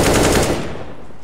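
Rapid automatic gunfire in the Counter-Strike (CS:GO) video game, a loud sustained burst of machine gun shots that fades after about half a second.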